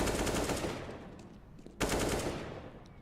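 AK rifle fire in a Counter-Strike match on the Cobblestone map: loud sustained automatic bursts, a long stream that fades slightly, then a second burst resuming abruptly, close and dominant with no talk.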